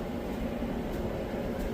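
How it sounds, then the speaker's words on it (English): A tumble dryer runs with a steady, even drone, a constant low hum with no change in pitch or loudness. "That is a nice sounding dryer."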